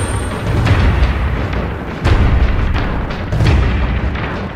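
Enemies blowing up one after another from a mutator grenade in Resistance 3, a series of loud, heavy booms in chain-reaction bursts with rumbling low-end between them.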